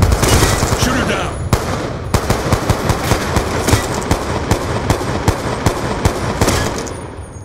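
Rapid bursts of machine gun fire in a Black Ops 2 team deathmatch, loud and close, with sharp repeated shots in quick rhythmic volleys over game background noise.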